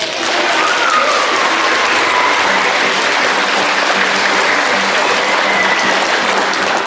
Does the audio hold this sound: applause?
yes